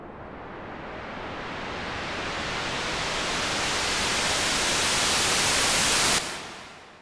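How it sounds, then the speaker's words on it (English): A u-he Repro synthesizer riser patch swells as a broad hissing noise that brightens and grows louder over about six seconds under a filter sweep, then cuts off abruptly. "I programmed this in with a filter sweep."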